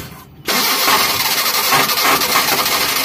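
A Mitsubishi Colt engine catches after a brief quiet moment, then holds a loud, close, high-revving roar with slight fluctuations and no talking.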